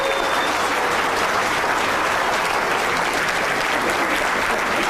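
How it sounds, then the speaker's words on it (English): A crowd claps loudly and steadily throughout, a dense, sustained wave of applause filling the room. "Give yourselves a round of applause."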